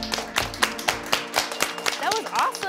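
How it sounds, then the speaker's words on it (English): A small group of young people at a feedback session clapping briefly: scattered, uneven claps close by with some voices mixed in. "Give yourselves a round of applause"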